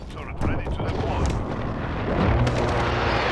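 Enemy precision airstrike explosions in a shooter video game, a continuous roar of booming artillery-like blasts and rumble that grows slightly louder, with a voice talking over it.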